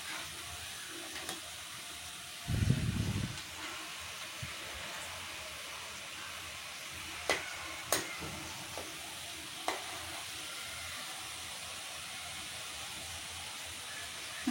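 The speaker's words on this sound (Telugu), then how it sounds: "మంచిగా రెడ్డిగా క్రిస్పీగా అయ్యేటట్టు ఫ్రై చేసుకోవాలి" Murukulu, rice flour snacks, deep-frying in hot oil over a medium flame, with a soft steady sizzle throughout and a brief louder burst of bubbling near the start, plus a few faint clicks.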